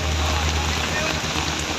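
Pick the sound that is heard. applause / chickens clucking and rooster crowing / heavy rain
heavy rain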